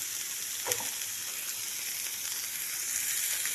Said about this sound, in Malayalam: സവാളയും പച്ചമുളകും തക്കാളിയും കൂടി ഇതിലേക്ക് ഒന്ന് ഇട്ടിട്ട് ഒന്ന് വഴറ്റി കൊടുക്കണം